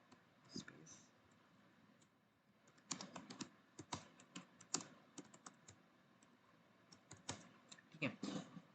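Code being typed on a computer keyboard during a C++ lesson, with bursts of quick key clicks coming in uneven runs, fairly close, under a voice talking in Hindi.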